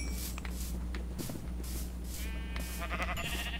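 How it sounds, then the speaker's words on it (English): Sheep bleating in the Minecraft video game, several short bleats scattered across the clip over a steady low background hum and faint shuffling, with no talking. "I have to kill your sheep."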